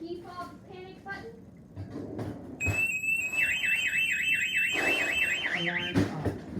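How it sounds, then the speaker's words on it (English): A SimpliSafe home alarm siren set off with the key fob panic button sounds loudly as a steady electronic tone with a fast warbling sweep. It starts about midway and carries on over background talk. "Okay, key fob panic button."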